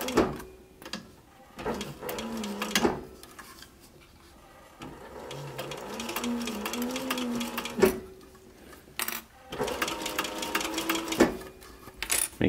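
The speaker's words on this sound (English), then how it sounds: "3/8 inch seam with this next stitch, because it's basically a top stitch on the end" Sewing machine top stitching the end of a fabric sun visor in several short bursts, broken by pauses, clicks and fabric handling, fairly close and moderately loud.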